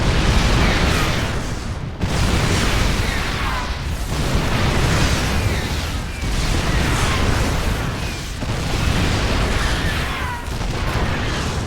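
StarCraft 2 siege tanks in siege mode pound Archons with a continuous barrage of deep booming blasts, loud and dense with brief dips about every two seconds.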